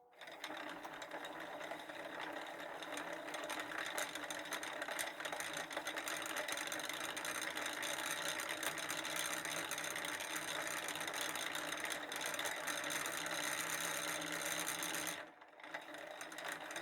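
A sewing machine, used for sewing a red velvet tote bag, runs steadily and loudly with a continuous mechanical whir for about fifteen seconds, then briefly stops before starting up again.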